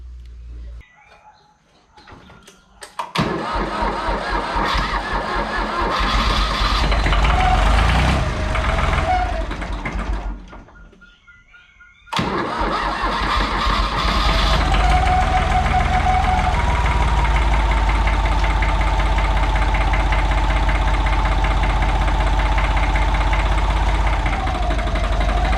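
A Ford 1900 tractor's engine cranks, catches and runs in a steady, loud diesel clatter, dropping briefly as it stumbles before restarting and settling into an even idle with a noticeable tappet knock.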